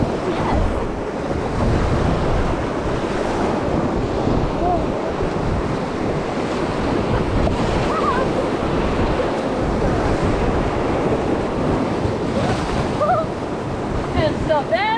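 Rushing river rapids on the King River churn loudly and continuously around a raft, with broadband water noise and wind buffeting throughout and brief voices calling out over it.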